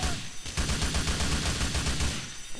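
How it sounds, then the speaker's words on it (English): Rapid automatic gunfire in Grand Theft Auto IV, a loud sustained burst of closely spaced shots rattling for over two seconds without a break. "I think I can shoot him"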